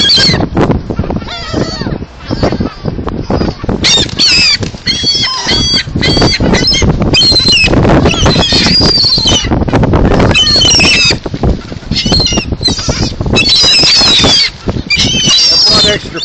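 A large flock of birds, including geese or ducks, crowds together honking and calling loudly and continuously at close range while being hand-fed french fries outdoors, with wind and wing flapping mixed in.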